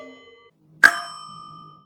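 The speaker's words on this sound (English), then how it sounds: "We also made the sound of the elevator dinging by ourselves." A single bright elevator ding from a video game, made by striking a pot, sped up and pitch-raised to a sharp bell timbre, rings out cleanly after a faint lead-in and decays smoothly over about a second.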